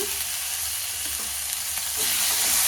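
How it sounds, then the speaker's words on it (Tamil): Tomato sautés with ginger and garlic in a pan for a Tamil green gram dal gravy, giving a dense, continuous sizzle close by that grows slightly louder toward the end, with no speech. "தக்காளி போட்டு தக்காளி நல்லா வதங்கட்டுங்க."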